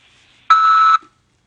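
A single steady electronic beep lasting about half a second, clear and close, with quiet silence on either side.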